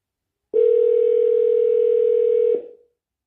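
A telephone dial tone sounds as a single steady electronic hum for about two seconds, then cuts off and fades into silence.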